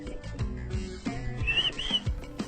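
Whistled Mazatec speech, a traditional whistled form of the Mazatec language, with two brief rising-and-falling whistle glides heard over background music, clear but moderately soft.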